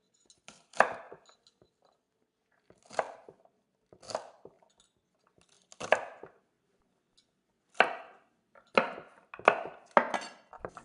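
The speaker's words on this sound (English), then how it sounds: "So here's all the green beans that I just cut" A knife chops green beans on a cutting board in close, soft bursts of several quick taps, separated by brief pauses, with near silence between.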